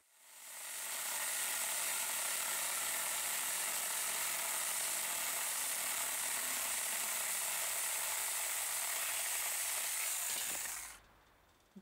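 A Saker 4-inch mini chainsaw buzzes through a dry firethorn branch, a steady high-pitched motor whine with a hissing cutting rasp lasting about ten seconds before cutting off abruptly.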